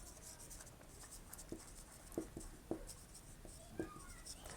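Pen or chalk scratching out a calculus differentiation derivation, a series of short irregular strokes and taps heard faintly over soft room noise.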